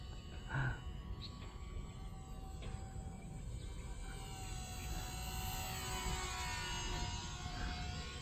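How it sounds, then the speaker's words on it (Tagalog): A small Kootai J3 Super Cub RC airplane with a brushed motor and noisy gearing whines as it flies nearby, a faint, continuous buzzing drone against outdoor background. "Kaya maingay yung gear niya eh. Kasi brush motor eh."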